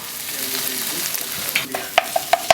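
Browned onions and spices for an aubergine and pea curry cook down in a pan with a soft, steady sizzle, then several sharp clinks of a utensil against the pan near the end.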